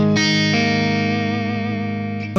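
Jet City JCA50H guitar amp on its crunch overdrive channel, a distorted chord ringing out steadily for about two seconds, loud and close, then cut off abruptly.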